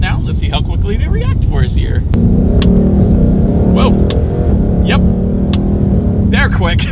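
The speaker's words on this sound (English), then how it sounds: "let's go ahead and do the paddle shifter test now" A 2020 Ford Mustang engine revs and shifts through the gears under paddle-shifter control, a loud, steady drone with pitch rises and drops, while someone talks over it throughout.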